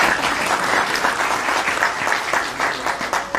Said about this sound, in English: So thank you. Applause.